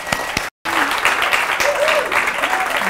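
Audience at an evening event about the plight of women breaking into loud, steady applause to welcome a speaker, a dense roomful of clapping that drops out briefly then carries on, with a few voices and whoops under it.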